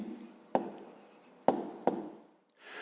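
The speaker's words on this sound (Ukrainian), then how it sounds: "Пишемо відповідь." A pen writes out the answer to a grade 5 maths problem by hand, giving three sharp taps as it strikes the paper between quiet scratching strokes, close and faint, with no talking.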